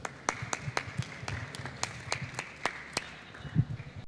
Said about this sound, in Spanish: En ese caso, Accenture merece un aplauso.